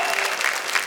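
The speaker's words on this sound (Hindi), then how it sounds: "किरण दुबे के लिए तालियां बजाइए।" Audience applause at a Hindi comedy and satire stage show, a dense, loud burst of clapping filling the whole short moment.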